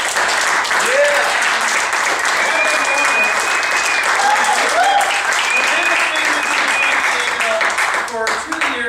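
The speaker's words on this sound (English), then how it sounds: "So I'd like to give a round of applause for Marc Shanahan." An audience applauds steadily in a hall for a departing member being honoured, dense clapping from many hands sustained throughout, with faint cheering and a brief dip near the end.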